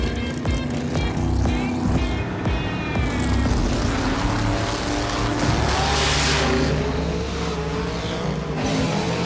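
Drag race cars on a street race roar loudly and continuously, engines swelling as they launch and pass, with a harsh high-revving rasp throughout.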